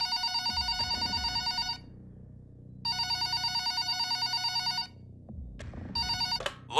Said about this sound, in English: when his phone starts ringing.